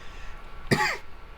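A single short cough or throat-clear during a tabletop roleplaying podcast session, one abrupt burst standing alone against a quiet background.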